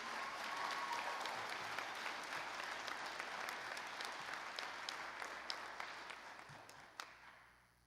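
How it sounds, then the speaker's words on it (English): Sustained applause from a commencement audience at a school graduation, a broad wash of clapping with individual sharp claps poking through, which slowly thins out and fades away near the end. "A round of applause for our creative area."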